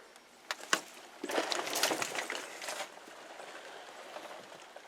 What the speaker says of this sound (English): I do put kitchen scraps in here, but it rotates like so.